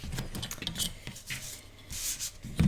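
Paper being cut down to size for a mini album, heard as close, soft rasping and rubbing strokes in an uneven run, with a louder scrape near the end and no talking.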